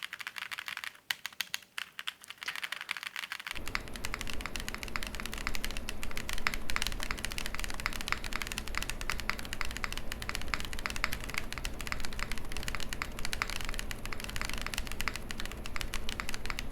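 Steady, continuous typing on a softly damped mechanical keyboard, muted keystrokes in a dense stream after a brief quieter start.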